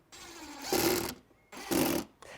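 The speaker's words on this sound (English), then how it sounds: "So if you now get the screwdriver, and I will hold this in place for you, while you put 3 screws in there." Two bursts of a small electric screwdriver driving screws into a rainbow cup holder craft project, each loud whirring run lasting about a second with a pause between, close by and with no talk.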